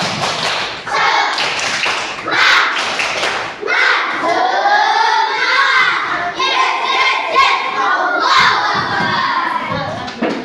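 A class of schoolchildren performs a rhythmic group spirit clap with a teacher, loud and close, the claps mixed with their chanting and shouted voices in bursts across the room.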